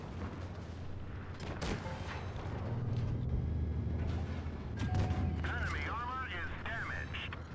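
Tank cannon fire from an AMX tank shooting into an enemy's rear in World of Tanks Blitz on the Badlands map: several heavy booms over a steady, low engine rumble, moderately loud and close.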